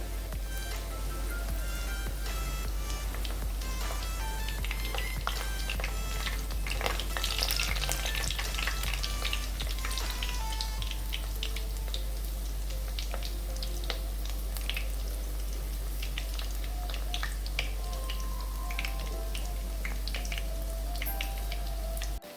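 Semolina pakoras deep-frying in hot oil over a medium flame, a dense, constant sizzle and crackle with small popping bursts, loud and close throughout with no talk.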